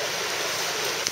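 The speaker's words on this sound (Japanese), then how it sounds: "雨は結構ひどく降ってます。" Heavy rain falls steadily on a mountain hiking trail in thick fog, a dense, even hiss that fills the whole stretch with no talk over it.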